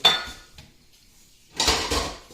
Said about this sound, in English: We also need a Dutch oven.